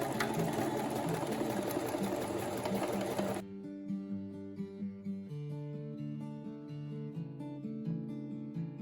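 A Singer M3405 domestic sewing machine runs a straight stitch, beginning with a loud steady mechanical whir, then easing into a slower rhythmic hum with regular needle clicks. No voices over it.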